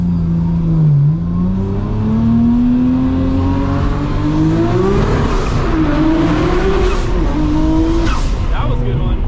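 A Nissan R34 GTR accelerates hard through the gears, its engine note rising and dipping with each shift while the tires squeal, loud and close inside the cabin with voices talking over it.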